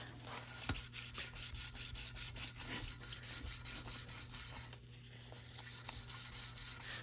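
Rhythmic back-and-forth strokes of hand wet-sanding car paint with 1000-grit paper on a 1973 Toyota Celica rasp across the surface, a steady scratchy scrubbing with brief pauses, close up and without talk.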